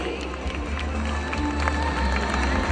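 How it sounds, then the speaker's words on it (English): Audience at a school annual day celebration clapping and cheering for a student dancer, a steady dense wash of applause and crowd noise throughout, with a few brief shouts rising above it. "I don't want those claps to weaken."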